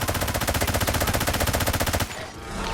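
A rapid automatic weapon fires in the mobile shooter game Delta Force Mobile, a loud, even stream of shots for about two seconds before cutting off, leaving a short ringing tail.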